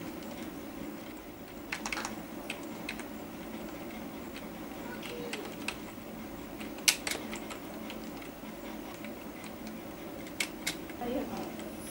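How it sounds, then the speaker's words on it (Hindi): Keyboard typing while entering table data in Microsoft Word, a soft steady patter of key taps with a few louder clicks, heard faintly under a quiet room tone. "चलिए हम लिखते हैं name, father, course, batch, Mohan के आर"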